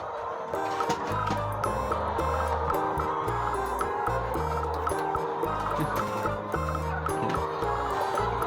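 Chickens on a farm gathered at a new homemade plastic feeder, clucking and murmuring softly in a continuous, low-level flock chatter with faint scattered calls, no voices over it.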